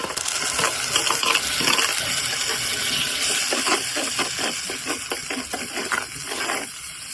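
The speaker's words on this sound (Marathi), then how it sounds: "आता किती होईल त्याप्रमाणे मी पाणी टाकते" Water is poured into a village-style fish curry of mixed bony fish with turmeric and green ground masala. A steady, close splashing pour runs throughout, mixed with sharp metallic clinks of a utensil against the pot, and no one speaks.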